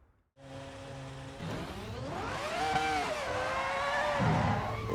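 Ferrari F2004 Formula 1 car driven at Spa in Assetto Corsa EVO, its engine note starting abruptly then rising and falling through gear changes, a loud, continuous high-pitched whine with building revs.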